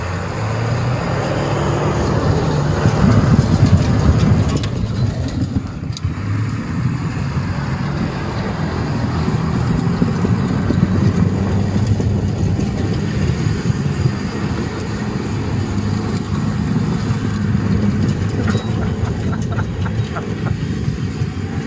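A truck spins its tires in a burnout on a driveway, a loud continuous roar of engine and rubber that swells early and then holds steady and harsh throughout, close up.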